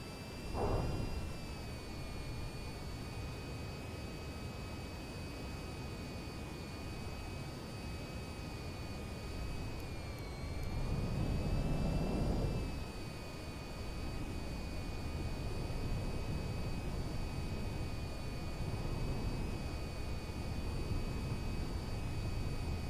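The AV-42c VTOL aircraft in VTOL VR drones steadily while landing, a faint continuous engine whine with high tonal lines over broadband rush that swells briefly as throttle changes.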